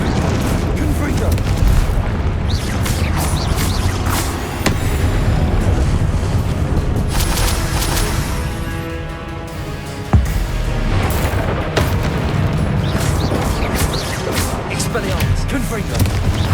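Confringo fire-spell explosions in the video game Hogwarts Legacy make loud, dense booms rolling almost without pause, with sharper blasts standing out now and then over a constant rumbling bed of battle noise.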